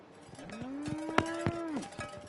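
Cow moo from the Apollo Justice video game, a drawn-out tonal low that rises, holds and falls, punctuated by sharp clanking cowbell hits and light clicks.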